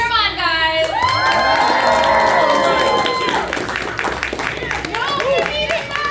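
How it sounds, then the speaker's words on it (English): Loud crowd cheering and shouting with scattered clapping at a Ramencon 2023 convention panel, rising sharply after a second and holding energetic for several seconds, with excited voices throughout. "Cheer 'em on, guys."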